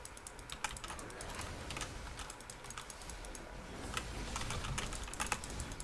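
Rapid clicking of computer keyboard keys and mouse clicks rattles on continuously and fairly faintly, with busy irregular rhythm, while a League of Legends match is played.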